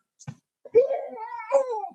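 A cat meows indoors with two drawn-out, wavering calls in close succession, preceded by a brief soft sound, fairly close and clear with no talk over it.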